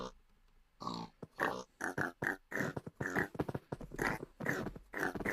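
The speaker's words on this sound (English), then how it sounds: "We got some pigs in here." Pigs in the Minecraft video game grunt and oink in rapid, close, fairly loud bursts, overlapping one another in a busy sequence.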